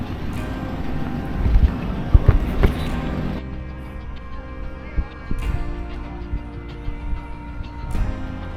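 Strong wind at a seafront on Kos, Greece, rumbling as a steady low roar and buffeting the microphone, with distant water and faint background sounds beneath it.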